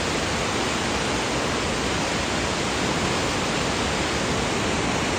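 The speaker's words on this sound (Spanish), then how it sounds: "Y aquí tenemos otra toma, miren, de cómo está el río. Es el río Verde" The Verde River, flooded after two days of hurricane rain, rushes as a loud, dense, unbroken roar of churning water filling the whole scene without pause.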